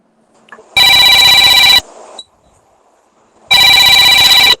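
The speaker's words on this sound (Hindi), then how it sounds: "किसका फोन आया?" A telephone rings in two loud electronic bursts, each about a second long, separated by a quiet gap with faint background murmur, during an online Sanskrit lesson.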